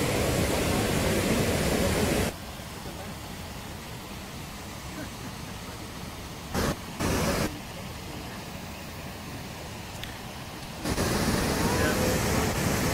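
A waterfall at a bear-viewing site gives a steady, broad rushing roar, loud at first, then dropping in level and returning full near the end.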